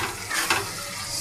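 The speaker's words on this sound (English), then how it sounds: "Just pour them straight in and give it a stir." Spices stirred into a pot of Libyan sharba give a steady broadband sizzle with a brief scraping stir near the middle, close and fairly loud, with no talk.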